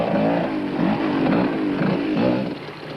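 Winston Yamaha off-road motorcycle picking its way down a boulder-strewn section of the 1991 Roof of Africa race: a close engine rising and falling in short throttle blips, loud and continuous.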